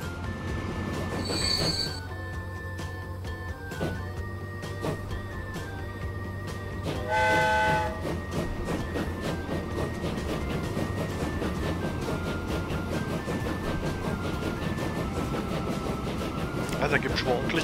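A freight train in Transport Fever, fully loaded on its run back from a farm, rolls along with steady wheel rumble and bright metallic squeals throughout, and someone talks over it.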